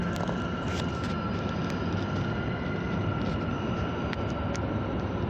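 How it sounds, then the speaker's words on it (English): A subway train at Boston's Government Center station gives off a steady, loud rumble, with faint squeals and clanks over the noise as it arrives. "The next train to North Station is now arriving."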